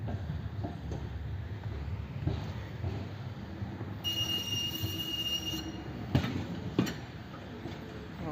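A tram moves and parks at the Nowa Huta tram depot, with steady low rumble, wheel squeal at mid-clip and a couple of clanks near the end, fairly close by.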